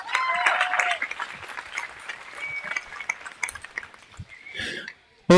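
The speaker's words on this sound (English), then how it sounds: "Let's give them a round of applause, please." Brief applause from a county fair audience for the crew, scattered clapping that thins out over a few seconds amid murmurs and a cough, ending in a sudden louder sound.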